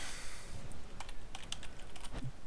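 A short run of computer keyboard typing, sparse light clicks over a steady hiss of background noise, heard while setting up macros for a Rift game.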